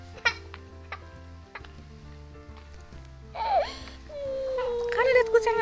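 A cat gives a couple of short, rising meows amid quiet room noise, scattered clicks and faint ticking, with a low hum beneath.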